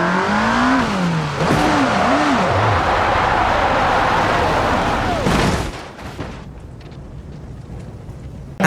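Porsche 918 in the BeamNG Drive video game accelerating hard, a loud continuous engine roar with rising and falling gear-shift sweeps, then a sudden crash-like burst and a quieter rumbling tail.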